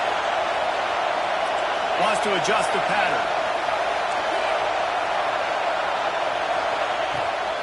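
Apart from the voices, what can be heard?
home stadium crowd cheering in College Football 26, video game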